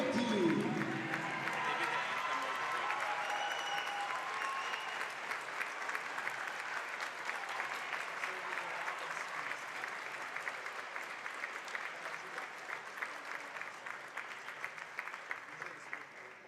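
A gym crowd at a Tufts University women's basketball game gives a sustained, dense round of applause for the class of 2018 seniors, steady and full throughout before tapering slightly near the end.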